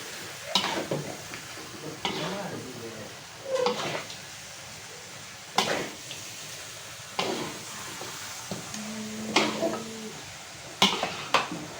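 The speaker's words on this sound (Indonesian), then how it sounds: "Kita aduk dia biar bumbunya itu betul-betul tergabung sama daging ayamnya sobat" Village chicken pieces with spice paste stirred in a pot for gulai: a low steady sizzle punctuated by about eight separate scraping, clattering strokes of a utensil against the pot, close and fairly loud.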